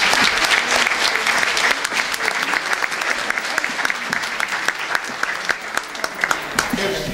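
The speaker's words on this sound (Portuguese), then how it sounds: "Uma salva de palmas para vocês." A room full of people at a Lions club centenary gathering on Flores Island, Portugal, gives a long, loud round of applause, thick continuous clapping with a few sharper individual claps standing out near the end.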